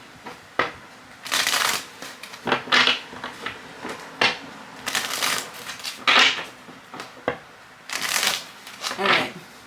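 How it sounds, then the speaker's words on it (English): A tarot card deck is shuffled by hand in repeated riffling bursts, each a second or so long, close and fairly loud with short pauses between them. "So let's go ahead and shuffle."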